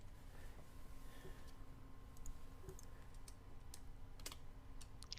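Faint, sparse clicks of a computer mouse over a low room hum, with a few sharper clicks bunched near the end.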